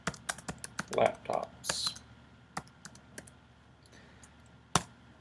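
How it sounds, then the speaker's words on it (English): Someone types a search query on a computer keyboard, with a quick run of close, crisp key clicks and a few isolated taps, while a person speaks briefly. "I can type in reviews Dell"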